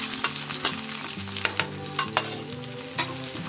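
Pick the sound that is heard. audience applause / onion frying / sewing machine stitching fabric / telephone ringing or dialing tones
onion frying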